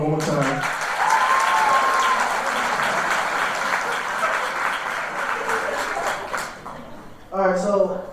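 A graduation celebration crowd claps and cheers for a student organization, steady full applause filling several seconds before fading, with a voice speaking briefly at the start and again at the end.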